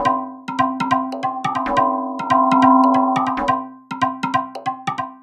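Synthesized percussion run through a membrane resonator at half wet mix, producing bright, pitched cowbell-like hits in a bouncy rhythmic pattern with ringing tonal decay, a sustained resonant passage in the middle, then crisp repeated hits again.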